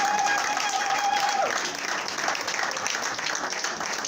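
A church congregation applauds during a worship service, a dense wash of clapping that carries on steadily with a brief tone fading early.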